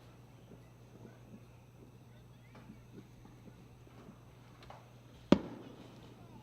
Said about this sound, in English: Big firework.